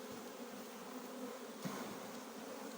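A steady, dense buzz of many honeybees shaken onto hive frames up close, droning continuously without pause.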